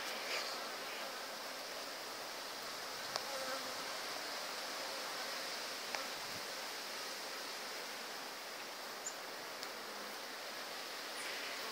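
Honeybees buzz during a top bar hive inspection, a constant, fairly faint droning hum from many insects with a few small clicks, no speech.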